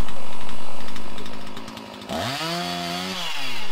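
Chainsaw making a felling cut in a tree trunk, guided with a felling handle: loud steady engine whine that drops in pitch as the chain bites into the wood, then revs climb again near the end, with no voices.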